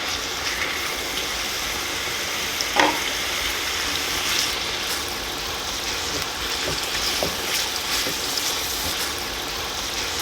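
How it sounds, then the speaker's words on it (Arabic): Pieces of meat fry in hot ghee in a pan for an Aleppo-style spinach stew, a steady close sizzle with occasional stirring scrapes and crackles. "ننزل اللحمه فوقها ونقليها"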